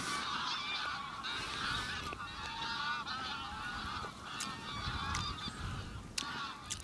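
A flock of geese honks continuously at a waterside, a dense chorus of overlapping calls at moderate distance, with occasional sharp clicks over a low background rumble.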